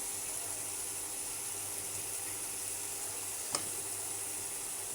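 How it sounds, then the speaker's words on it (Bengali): Potatoes fry in a spice paste with a soft, steady sizzle at low level, broken by a single brief scrape of a utensil partway through. "মশলা কষানো হলে এবার দিয়ে দেবো আলু"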